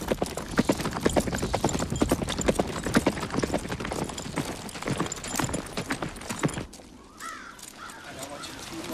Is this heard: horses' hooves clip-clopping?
yes